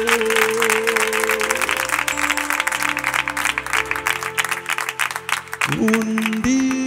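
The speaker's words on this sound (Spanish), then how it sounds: "Fuerte los aplausos a Dios." Audience clapping at a live Spanish-language church worship concert, a steady, loud wash of applause throughout, blended with music and voices, with sustained tones near the end.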